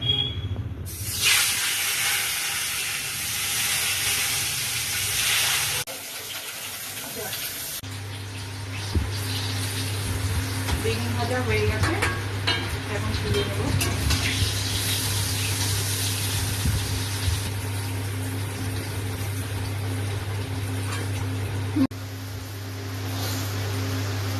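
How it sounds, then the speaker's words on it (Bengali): Eggplant fries in oil topped up after frying fish for a Bengali home-style dish, giving a loud, continuous hiss that runs almost the whole time over a steady low hum. "তেলে আর একটু তেল দিচ্ছি এর মধ্যে বেগুনটা ভেজে নেবো"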